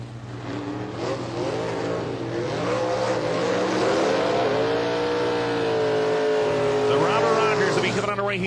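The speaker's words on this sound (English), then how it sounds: "the TRZ Motorsports Nitrous Express on board. 95 Bunny Mustang, Eric Kenward, BP Race Fuels." A 1995 Mustang with a Nitrous Express system accelerating hard at a drag-racing elimination: a loud, sustained engine roar that rises in pitch, under a commentator's steady talk.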